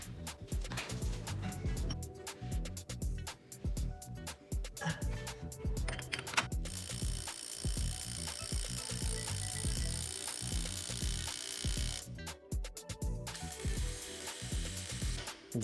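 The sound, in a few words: impact wrench trying to remove a nut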